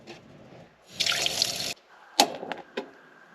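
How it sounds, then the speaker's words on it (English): A camper van's electric water pump runs water from the kitchen faucet: one steady gush for under a second, then several short spurts as the tap is opened and closed. "We'll turn our water pump on."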